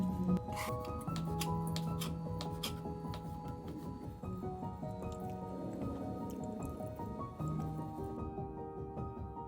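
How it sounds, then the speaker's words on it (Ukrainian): Raw chicken meat cut with a knife for a salad with pancakes and chicken, giving soft wet squishing and dripping sounds, close and steady under background music. "А поки нарізаю куряче м'ясо."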